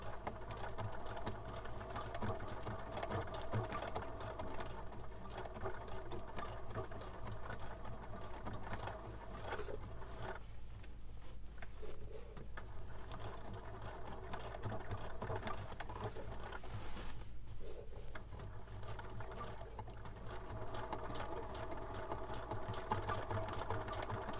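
A sewing machine stitches all over a collage journal cover, a steady close mechanical whir that runs throughout with a couple of brief dips in intensity and no talking.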